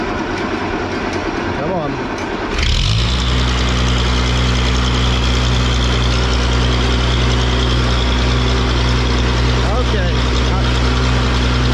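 A farm tractor engine cranks briefly, catches and settles into a loud, steady low idle that runs on, with a man's few spoken words at the start.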